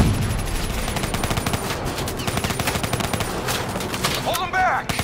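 Rapid automatic gunfire in a Call of Duty: Black Ops 3 mission, dense bursts of shots rattling almost continuously and loudly, with a brief voice heard near the end.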